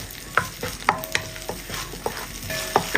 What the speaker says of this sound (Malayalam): ഒരു പത്ത് സെക്കൻഡ് ഇതാ ഒന്ന് ഇളക്കി കൊടുത്തിട്ടുണ്ട്